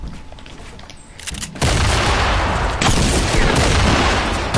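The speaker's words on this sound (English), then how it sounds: "Oh my god, grenades! And an RPG." Grenade and RPG explosions in Fortnite, with quieter gunfire first, then a sudden loud blast that rolls into a sustained heavy rumble of overlapping detonations and gunfire.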